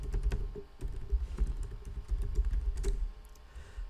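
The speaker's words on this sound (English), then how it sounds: "let me just type here." Quick, uneven clatter of keys on a computer keyboard as an email recipient's address is typed, with soft individual taps and short pauses, close and fairly quiet, with no voices.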